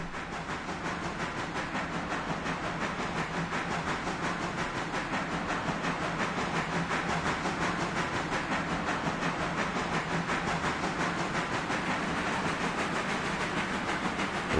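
A locomotive in the Railroader train game runs along a passing siding, giving a steady, moderately quiet rolling hiss with faint rhythmic clicking that holds evenly for about fifteen seconds, no voices present.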